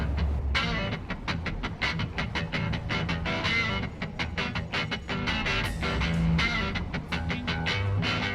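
A train rolls steadily along the tracks in the factory-building video game Satisfactory, with a continuous loud rumble and a regular, clacking rhythm throughout and no talking.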